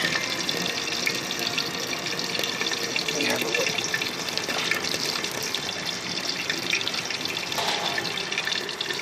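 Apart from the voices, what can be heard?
hot water running out of waste oil heater's heat exchanger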